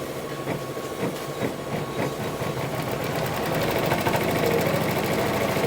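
A sewing machine stitches a bird's beak in matching thread, running in a continuous rhythmic chatter that grows slightly louder and steadier partway through, with no voices.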